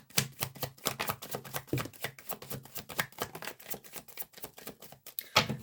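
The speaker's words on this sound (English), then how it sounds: "I kind of want to get a second shuffle because I feel like I don't have enough" Tarot cards being shuffled by hand, a rapid run of crisp papery riffles and taps in a steady, busy rhythm, close and moderately loud with no talking.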